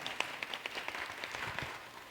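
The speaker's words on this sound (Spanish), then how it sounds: "Un aplauso también, por favor, para Rosana." An audience at a public event applauds a guest named Rosana: a scattering of individual hand claps, fairly sparse and moderately distant, fading out after about two seconds.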